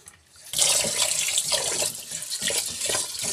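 Water runs steadily from a tap into a basin while rinsing rice, a close, continuous splashing rush that starts abruptly after a brief quiet moment.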